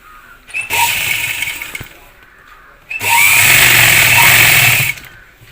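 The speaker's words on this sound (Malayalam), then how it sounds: "ഇനി നമ്മൾ അത് മടക്കി അടിക്കാൻ പോവുകയാണ് കേട്ടോ" A sewing machine stitches a folded V-neck piece of garment in two loud bursts, a shorter run then a longer steady whir, with a brief pause between them.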